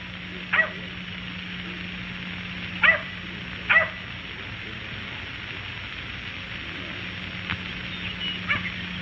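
A dog barks in short sharp bursts, three close together early on and two fainter ones later, over a steady low hum and light background hiss, with no talking.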